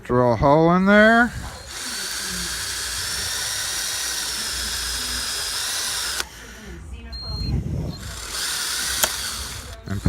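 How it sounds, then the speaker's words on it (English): A power drill whines with a steady high-pitched tone as it bores into an antique Russwin adjustable lock cylinder, running several seconds, stopping, then briefly revving again, with someone talking before it. "drill a hole in there."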